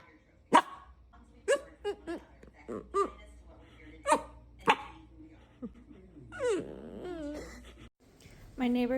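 A dog outdoors during a rainstorm barks in a series of short, sharp barks spaced irregularly, with a whimpering whine near the end, close and fairly clear with a voice talking between barks.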